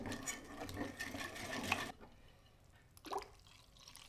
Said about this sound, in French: J'ajoute progressivement le reste de l'eau en mélangeant.